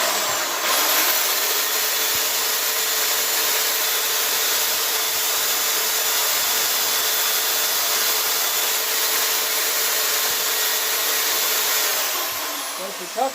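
A chainsaw runs steadily while carving feather details into a wooden owl, a continuous close, loud whine that barely changes pitch and ends with a brief slowdown.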